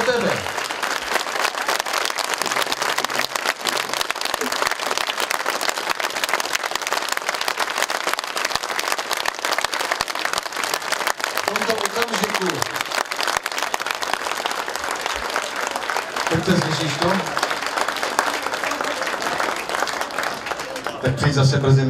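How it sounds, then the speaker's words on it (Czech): An audience applauds a singer at a country music stage show, a steady, dense wash of clapping lasting throughout, with a voice speaking faintly over it at moments. "Zatleskejte mu."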